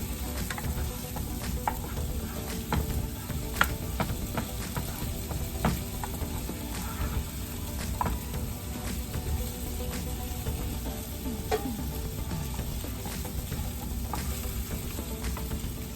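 Ingredients sautéing in a pan on medium heat, a continuous soft sizzle with scattered pops and crackles, steady and close, with no talking.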